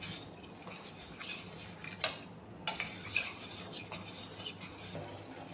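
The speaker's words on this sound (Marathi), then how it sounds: "कस्टर्ड दुधामध्ये छान प्रकारे मिक्स करून घेऊया" Vanilla custard powder is stirred into milk with a spoon, making quiet, close scraping swirls and a few light clinks against the vessel in an otherwise hushed kitchen.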